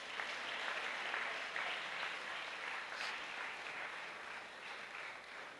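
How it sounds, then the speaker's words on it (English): Sustained applause from a large graduation ceremony audience in a school hall, dense steady clapping that holds at an even level throughout without voices on top. "You give yourself a round of applause."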